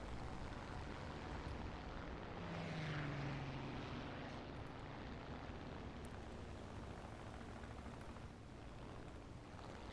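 A Yak-9U propeller fighter's engine drones in a video game dogfight, a continuous close rumble that swells slightly partway through and then eases, with no speech.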